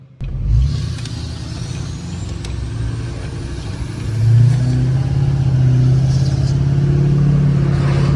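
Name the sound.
L5P Duramax truck engine accelerating on a ride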